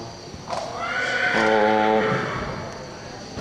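A well-kept horse at a stable whinnies loudly and close by in a long, shaking neigh, with the soft clip-clop of hooves in the background.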